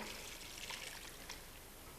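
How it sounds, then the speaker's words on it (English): Chicken broth poured from a container into a pot of potato soup with vegetables, a soft, steady liquid trickle lasting about two seconds at low volume. "2 cups of chicken broth. You're going to pour this in"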